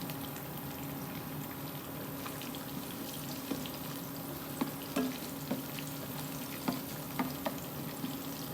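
Green cardamom and one black cardamom frying in hot oil in a pan for a spicy Pakistani-style bottle gourd dish, giving a steady close sizzle and crackle with a few sharper pops and no talking.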